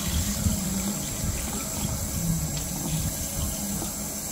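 Food being washed under a running kitchen tap: a steady, close stream of water splashing continuously and fairly loudly, with no voices.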